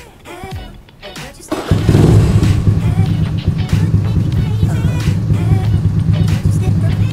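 After a few seconds of quieter clatter, a Beat motorcycle with a modified exhaust starts and settles into a steady, low, throbbing idle up close.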